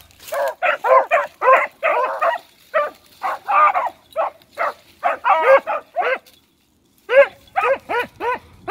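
Hunting hounds bark in quick, loud clustered bursts at close range, with a short silent gap near the end before the barking resumes in a steady run.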